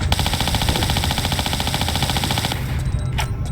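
Uzi fire in Tomb Raider V, Colosseum level: a continuous loud automatic burst lasting about two and a half seconds, followed by a short tail and a couple of faint clicks.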